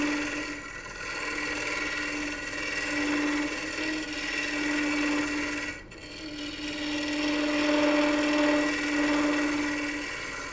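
A wooden coffee scoop being turned on a lathe with a gouge slicing the wood, giving a steady, close whirring hiss with a sustained tonal hum that runs almost unbroken and dips briefly partway through.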